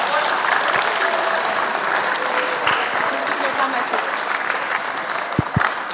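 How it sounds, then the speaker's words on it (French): Steady applause from an audience at a geosciences round-table event fills the room, continuous and fairly loud throughout, with a few sharper claps standing out near the end. "Vous pouvez l'applaudir pour lui donner du courage."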